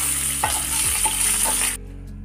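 Whole spices, two dried red chilies and bay leaves sizzle in hot oil for a spinach and potato dish, a steady loud hiss with a few stirring scrapes, the sizzle cutting off abruptly near the end.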